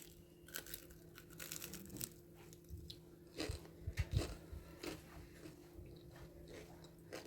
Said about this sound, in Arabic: سامعين صوت القرمشة؟